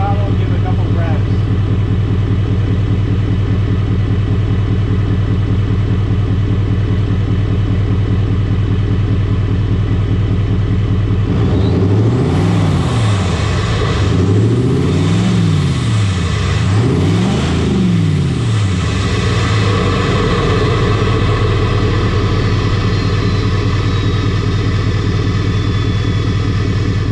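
A 2024 Duramax diesel truck fitted with a Banks Ram Air intake idles steadily, then revs up in several rising and falling throttle blips, with a high turbo whine singing over the deep engine rumble.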